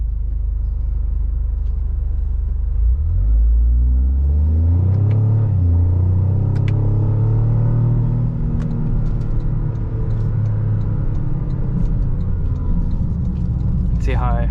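A 2025 Toyota GR Corolla rally hot hatch drives through corners, its engine rumbling loudly and rising in pitch as it accelerates, heard steadily from inside the cabin with a voice talking over it.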